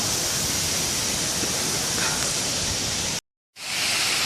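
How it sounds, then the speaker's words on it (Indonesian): The second tier of Mangkol waterfall in the hills of Bangka pours with strong flow, giving a loud, steady broadband roar close by that cuts out briefly near the end before resuming. "yang ini adalah air terjun Mangkol tingkat kedua, yang mana intensitas air terjunnya, debitnya paling gede"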